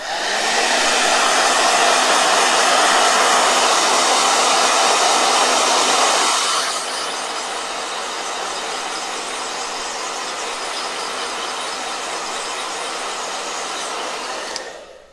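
A hair dryer runs steadily for the whole stretch, a loud close whooshing whine that drops to a lower, quieter setting about halfway through and carries on with no talking.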